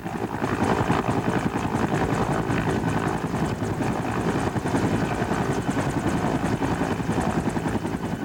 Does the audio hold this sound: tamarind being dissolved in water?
no